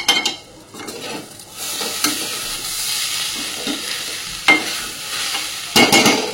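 Rice with spices, egg, fried cashews and raisins being stirred and fried in a pan, giving a steady sizzle with scraping stir strokes and a few louder clanks of the spoon against the pan, close by with no talking.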